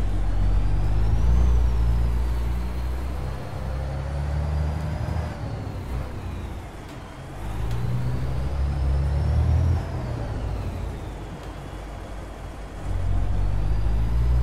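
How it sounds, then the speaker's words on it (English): A Peterbilt RV truck in a driving game rumbles steadily with a loud low engine drone, with air-brake hisses and surges of revving across the stretch and no talking. "Let me take my time and drive this pretty truck."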